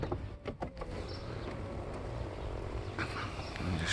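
A Mercedes 500SL R129 convertible roof closes with a continuous mechanical whir and a few squeaky creaks early on, ending in a faint latching clunk, heard close up.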